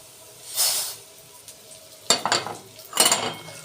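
Rice tipped into a pot over fried onions for Egyptian koshari, giving a few close, separate bursts of hissing sizzle with metallic scraping and stirring against the pot between them.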